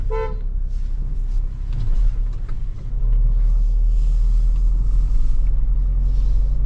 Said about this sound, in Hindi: गाड़ी इतने प्यार से चढ़ रही है सेकंड गियर में विदाउट मच एफर्ट्स